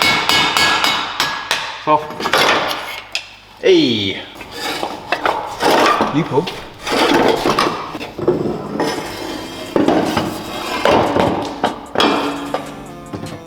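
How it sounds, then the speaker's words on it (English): Hammer blows on a seized BMW E46 prop shaft stuck at the differential end, with repeated loud metallic strikes and clanks in uneven bursts, while people talk briefly nearby. "it was kind of seized on at the end next to the differential, so it needed a bit of persuading with the hammer"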